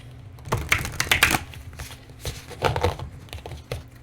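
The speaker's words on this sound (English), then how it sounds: "And then shuffling this deck isn't that hard." A tarot card deck is shuffled close up, giving bursts of papery riffling and crinkling that rise and fall over a steady low background.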